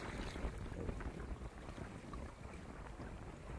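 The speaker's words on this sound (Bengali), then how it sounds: "খুব বাতাস" Strong wind buffeting the microphone out on the Padma River while hilsa fishing, a constant low roar with gusty rumbling and no voices.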